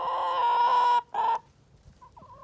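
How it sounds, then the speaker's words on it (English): Backyard homestead chickens, a loud drawn-out rooster crow that breaks off, followed by quieter scattered clucks close by. "Morning, chickens."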